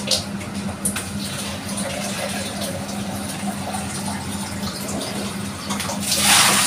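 Water runs steadily from a tap, with a continuous hiss and splash under a low hum and a louder gush near the end.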